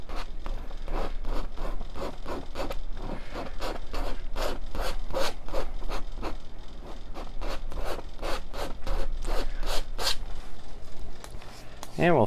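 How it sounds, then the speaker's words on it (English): A paintbrush is scrubbed roughly into canvas while oil painting a waterfall scene, giving a steady run of close, rapid scratchy strokes in a brisk rhythm that carries on without a break. "I'm getting nice and rough with this canvas. I'm really trying to push that color in there."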